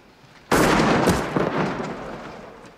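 A single loud gunshot from the film Schindler's List, a sharp sudden blast that rings out and decays over about two seconds.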